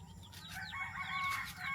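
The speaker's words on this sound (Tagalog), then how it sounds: "Manok." Chickens cluck while a rooster crows nearby, short calls rising over a low rumbling background.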